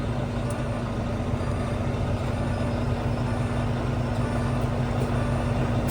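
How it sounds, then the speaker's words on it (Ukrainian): A truck's diesel engine idles steadily in a low, even rumble with a constant hum and no audible speech, heard up close and fairly loud throughout. "Зараз ми заводимо трак. машина заводиться."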